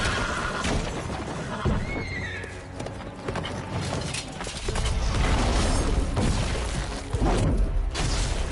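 A horse neighs and whinnies in The Witcher 3: Blood and Wine, in the Toussaint region, over clip-clopping hooves and dense game soundscape, the loud whinny rising near the start and the hooves continuing throughout.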